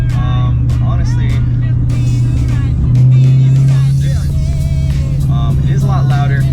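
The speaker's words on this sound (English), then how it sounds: "it is a lot louder because it has headers, exhaust, full bolt-ons" Steady low engine drone from a 2016 Camaro SS with headers, full exhaust and bolt-ons running on E85, heard from inside the cabin while accelerating and swelling briefly midway, with someone talking over it throughout.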